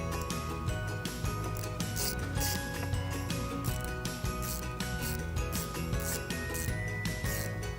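A 10mm socket wrench loosens an accessory nut on the battery of a 2010 Jeep Liberty, giving a run of ratcheting clicks over steady, loud background music.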